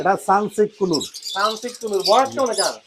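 Pet birds at the Mirpur bird market in Bangladesh, such as cockatiels, conures and lories, chirp and call in quick bursts close by, mixed with people talking.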